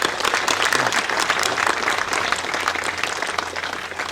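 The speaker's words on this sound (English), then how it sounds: "Please welcome sir with a huge round of applause." At a school event in Keshav Nagar, an audience claps loudly and steadily to welcome the chief guest, a thick, continuous round of applause from many hands with no talking over it.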